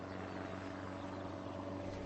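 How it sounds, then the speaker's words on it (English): An airplane flies overhead in the evening outdoors in the wilderness, a faint, steady, distant propeller drone with a low humming tone and no voices. "I heard the sound of an airplane"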